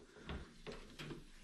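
Harvest Right freeze dryer door pulled open, giving a few soft, muffled thuds and a light creak over a quiet background, close and brief.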